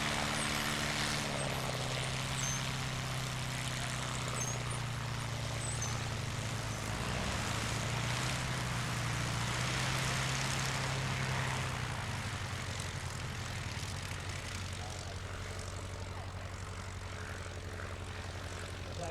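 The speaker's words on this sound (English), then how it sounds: "the rotary engine Sopwith Pup just taxi down the field." A Sopwith Pup biplane's rotary engine drones steadily as it taxis, a low throbbing hum with a rough, buzzy texture, close by and continuous throughout.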